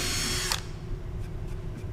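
Power drill running at full speed while boring a hole, a steady whining drone filling the whole stretch with a brief sharper burst near the start, no talking.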